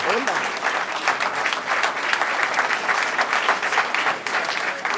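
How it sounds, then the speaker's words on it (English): Sustained applause from an event audience, dense steady clapping filling the whole stretch at a fairly even level, with no clear talk over it. "I would like a big round of applause for the country manager of ONA."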